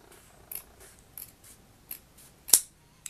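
Scissors make a few sharp snips through a cotton strip, brief crisp cuts spread out with a louder final snip, close and alone in a quiet room.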